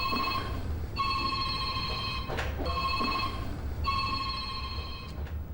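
An old-fashioned telephone bell rings twice in clear, loud bursts, each a shrill metallic trill lasting about a second and a half, separated by a short pause in a quiet room.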